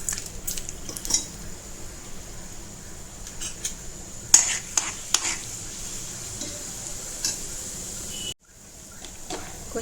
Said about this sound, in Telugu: ఇప్పుడు అదే నూనెలో తాలింపు పెట్టుకుందాం.